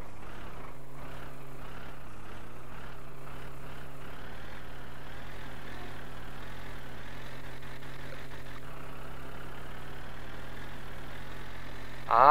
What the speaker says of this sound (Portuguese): E aqui eu não vou poder acelerar muito, ó. Subir aqui na marcha lenta.